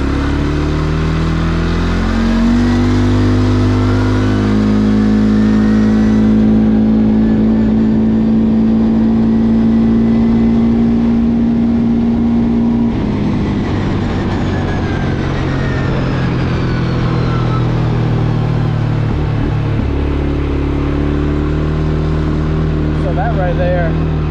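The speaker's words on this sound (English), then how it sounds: "we'll just see what this bike got real quick on a higher end cruise" A 2022 CFMOTO CFORCE 400 ATV accelerates hard across a clearing, its engine droning loud and close and climbing in pitch through long pulls with gear changes, no talk over it.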